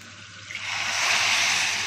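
Boiled water pours steadily into a pot of rice, a close rushing splash that swells and holds for a couple of seconds with no talking.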